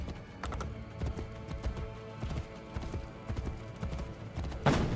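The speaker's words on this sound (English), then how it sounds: "Faster to travel by horse." Horse hooves clip-clop at a steady trot through the streets of Vienna in Assassin's Creed, a continuous run of close, crisp hoofbeats with faint background game ambience and one louder thump near the end.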